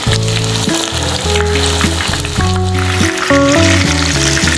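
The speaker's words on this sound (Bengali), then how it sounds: "কোফতাটা আমি মিডিয়াম ফ্লেমে ভাজছি, হাই ফ্লেম দিব না" Nargisi kofta frying in oil over a medium flame, a steady close sizzle running underneath loud melodic background music throughout.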